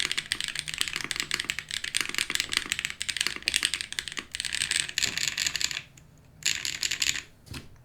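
Fast, continuous typing on a mechanical keyboard with thin ABS DCS keycaps, bright close clacks in a steady stream with a short pause near the end.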